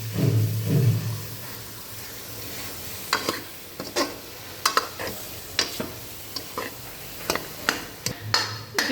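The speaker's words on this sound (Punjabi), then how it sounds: "ਆਲੂ ਵੀ ਆਪਾਂ ਵਿੱਚ ਪਾਤੇ ਤੇ ਹੁਣ ਇਹਨੂੰ ਚੰਗੀ ਤਰ੍ਹਾਂ ਮਿਕਸ ਕਰ ਕਰਨਾ" Potatoes stirred into a hot tempering in a pan while cooking chole for chole bhature: a soft sizzle runs throughout, broken by a series of sharp spoon scrapes and taps against the pan. No one speaks.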